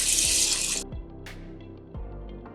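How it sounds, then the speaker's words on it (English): Rice milk poured into a pot of rice, a steady bright liquid rush for under a second, followed by softer trickling and a brief splash near the end. "now go ahead and add 3 cups of rice milk"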